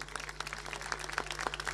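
Faint, patchy clapping from an audience at a folk poetry and payador programme, a short burst of separate claps over a low steady hum.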